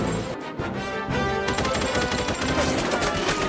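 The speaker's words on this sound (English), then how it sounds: "Gunfire breaks out, chaos spreads, and everyone scrambles for safety." Gunfire in an animated cartoon during an island revolution, a dense clatter of rapid shots like a machine gun, loud and continuous with music and effects running underneath.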